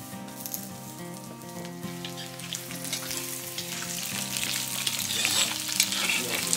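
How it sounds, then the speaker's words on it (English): Food fries and sizzles steadily over an open wood fire in a traditional earth oven, with continuous crackling hiss and occasional stirring scrapes, close and fairly loud, no talk. "We're cooking right over the open fire."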